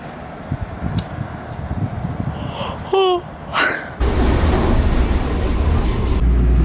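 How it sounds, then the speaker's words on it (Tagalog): A train rumbles into Kaohsiung's Xinzuoying station, with a brief squealing brake chirp, then a loud steady roar of the carriages alongside; some faint talk in the background. "Naghihintay ng train papuntang Kwai Kwai"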